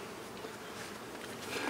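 Honeybees buzzing during a beehive inspection, a dense, continuous hum of many bees close by, soft and steady, with no talking.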